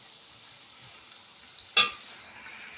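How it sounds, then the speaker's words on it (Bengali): Oil lightly frying in a wok while cooking chicken kosha gives a quiet, steady hiss, broken once by a short, sharp clatter. "হালকা ভেজে নিচ্ছি।"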